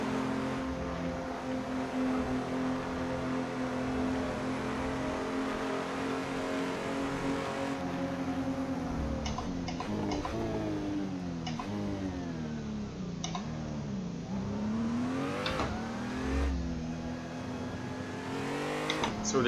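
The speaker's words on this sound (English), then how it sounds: "listen to the sound of that car" Engine of a BMW race car in a racing video game, a steady loud drone that rises and falls with revving and gear changes through the second half, heard alone with no talk.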